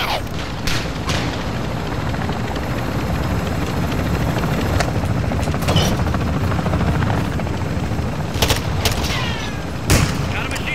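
A helicopter thrums steadily through a video game battle while sharp gunshots and bursts crack intermittently over it, with scattered voices in the background.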